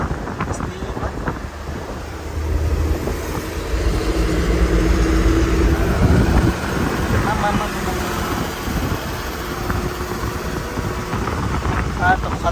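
A bus rolls along a road toward Bhaktapur with a low, continuous engine and road rumble mixed with wind buffeting, while people talk over it.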